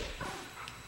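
A dog in the video game The Legend of Zelda: Twilight Princess gives a short, soft bark or yip, brief and fairly quiet against faint game ambience.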